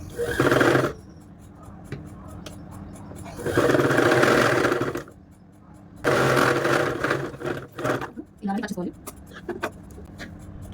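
A sewing machine stitches a kids' frock in three loud bursts of rapid mechanical whirring separated by pauses, close up, followed by shorter clicks and fabric handling.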